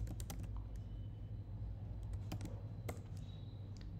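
Typing on a computer keyboard while entering a Laravel config publish command, with scattered sharp key clicks in quick bursts over a steady low background hum.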